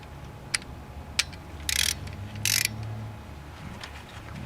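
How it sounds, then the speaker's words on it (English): A torque wrench tightens a bolt to 25 foot-pounds on a Powerstroke 7.3 diesel engine, giving a few sharp ratchet clicks followed by two short rasping bursts, close and fairly quiet. "we're going to go ahead and torque it to 25 foot-pounds. My torque wrench already set up."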